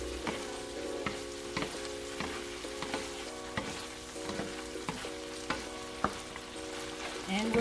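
Spaghetti with Vienna sausage and parmesan being stirred in a pan, with repeated soft scraping strokes of a utensil over a low steady sizzle and a faint tonal hum throughout.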